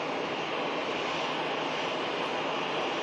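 An EasyJet jet airliner, registration G-LSAJ, at Manchester Airport gives a steady, even roar of engine noise, moderately loud and unbroken, with no voices over it.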